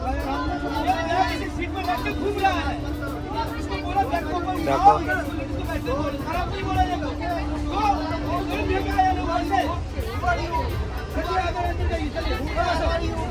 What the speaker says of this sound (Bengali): প্রচন্ড ঝামেলা চলছে জায়গা নিয়ে।